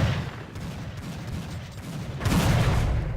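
Counter-Strike gunfire from a weapon fired while running, heard as a rapid burst of shots with low booming thuds that grows louder and denser toward the end.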